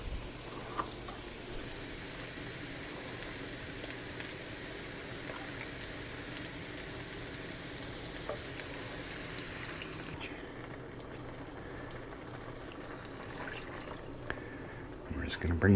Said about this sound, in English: now we're going to add in our cream